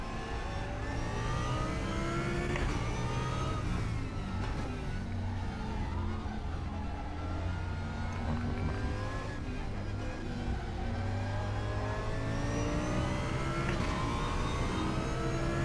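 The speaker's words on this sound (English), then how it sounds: "There's a bunch of DTMs coming through." DTM race cars passing in the RaceRoom racing game, with a continuous loud engine roar and shifting revs as several cars go by in a dense stream of engine noise.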